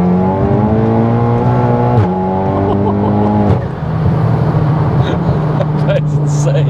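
A heavily modified Cupra 280 making about 632 bhp accelerates hard in third gear, its loud engine note climbing steadily through a gear change, heard from inside with people talking over it.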